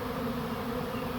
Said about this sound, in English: we see the beginnings of a beard starting to form, where the bees are landing faster than they can pile into the entrance